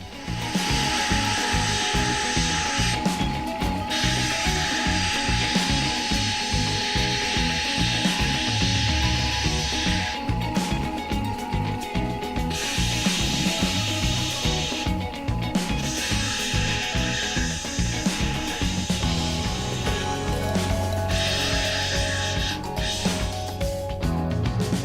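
A linisher machine grinding and polishing metal into shape in a workshop, with a continuous loud abrasive belt whir that swells and eases as the workpiece is pressed on and lifted off.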